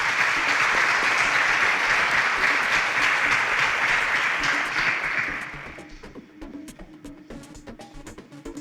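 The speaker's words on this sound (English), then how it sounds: "Round of applause." A quiz-show studio audience gives a sustained round of dense, loud applause that thins after about five seconds into a few scattered, closer claps.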